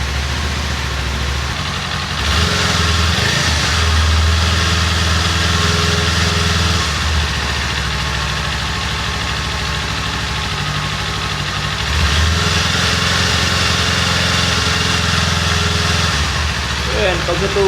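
Kawasaki Z400 motorcycle engine idling steadily up close, a constant mid-pitched hum with brief rises in revs, while someone talks over it.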